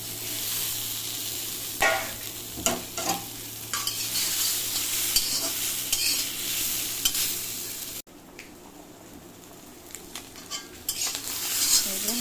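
Fish pieces sizzle in a pan of lightly fried spice paste while a utensil stirs and scrapes against the metal, with clinks and a continuous frying hiss that drops lower after a short break.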